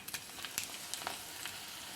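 Mustard seeds, fenugreek and dried chillies fry in hot oil, a soft steady sizzle broken by scattered sharp pops and crackles of seeds bursting, with no talk.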